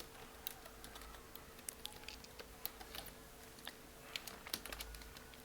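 Fingers typing on a computer keyboard while writing React code, a quick irregular patter of soft key clicks, close and fairly quiet, with no talking.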